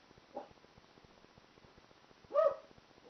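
A dog gives two short, faint barks, one early and one later, each distant and muffled against a quiet, low background.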